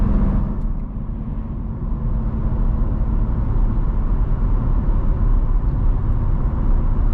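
Corvette C7 Z06 driven hard from inside the cabin, a loud continuous engine and exhaust drone with steady road roar, no speech.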